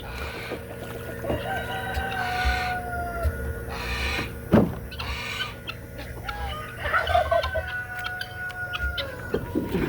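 Backyard flock of chickens and roosters clucking and squabbling nearby, with overlapping calls, sharp squawks and a steady low background hum.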